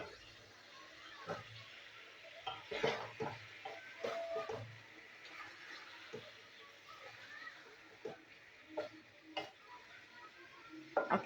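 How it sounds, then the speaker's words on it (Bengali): Chicken and potato pieces being stirred in a pan of spice masala, with a steady background sizzle and irregular scraping stirs and clinks of a utensil against the pan. "চিকেনের সাথে আমি একটু কষিয়ে নেবো"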